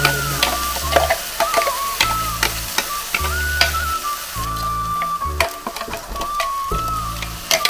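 Green curry paste for a prawn curry frying in a pan, a loud continuous sizzle broken by repeated rhythmic scraping stirs of a utensil, close up with no voices.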